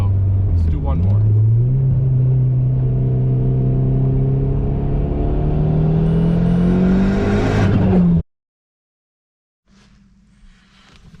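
An engine revs up loudly, its pitch climbing steadily for several seconds before cutting off abruptly, followed by quiet and faint low rumbling.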